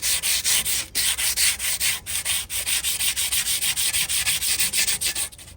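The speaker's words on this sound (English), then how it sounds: "I think a little 120 sandpaper, get it back down to the bottom" A Primo grill smoker lid is sanded by hand with 120-grit sandpaper, giving a close, rhythmic series of rough back-and-forth scrubbing strokes with brief pauses, and no voices.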